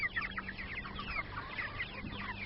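Several chickens in a backyard brood clucking softly and continuously, a faint, busy chatter of short overlapping calls with no voices over them.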